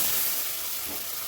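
Whole cumin seeds sizzle in hot oil in a wok, a close, even hiss of frying with no voices over it.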